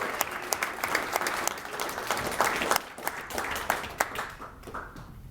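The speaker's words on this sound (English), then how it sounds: "I'd like to have at least one more round of applause for Gabby and Dawson." Dense, steady applause from a wedding crowd after a groomsmen's speech, with many hands clapping close by for several seconds and a few louder claps standing out near the end.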